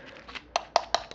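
A hollow plastic wall charger is tapped by hand a few times, giving light, close, hollow knocks in a quick irregular sequence over a faint background murmur.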